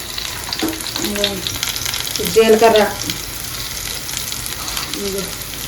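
Oil sizzles steadily in a pan as onions, garlic and cumin fry, with a brief louder crackle in the middle and faint voices underneath.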